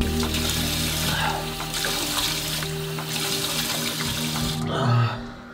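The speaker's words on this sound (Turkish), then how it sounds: "Bol bol yüzümü yıkıyorum ki beni şoklasın diye" Bathroom tap running steadily into a sink while someone splashes water on their face, a close, continuous hiss of flowing water that cuts off near the end, with no talking.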